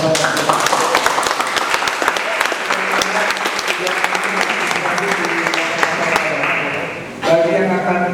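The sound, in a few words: audience applause for Pak Sambulan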